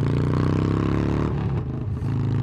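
A Harley-Davidson Forty-Eight motorcycle engine revs loud and close with a deep, steady throb, then the rumble wavers and dips briefly near the end as the throttle changes.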